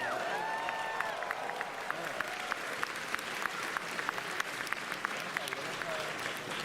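A crowd at a charity fundraiser applauds steadily, with dense clapping, scattered louder individual claps and a few cheers, all at a fairly even level throughout.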